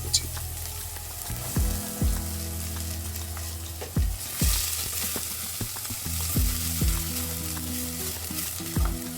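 Whole cumin, chopped onion and a large garlic frying in oil in a pan, a steady loud sizzle broken by repeated scraping strokes of a spoon stirring, with no talk.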